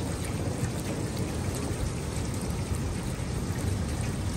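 Rainwater leaks from a gutter downspout, a steady continuous splashing trickle that stays at one level throughout, close by and with no talking.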